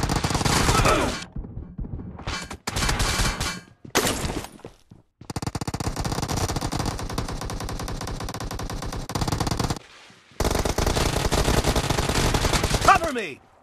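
Sustained automatic gunfire from Battlegrounds Mobile India, long rapid bursts broken by short silent gaps, loud and close, with a final sharp swell near the end.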